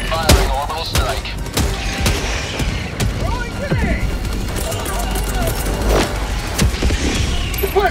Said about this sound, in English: Calling in orbital strike! Hard tunnel free! Firing orbital strike.